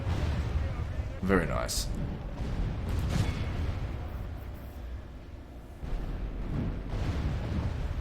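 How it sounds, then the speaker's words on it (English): Mortar barrages and explosions in a Total War Warhammer-style campaign battle for the Principality of Reikland, heavy booms rumbling under ongoing game noise with someone talking briefly. "Two mortars is definitely better than one."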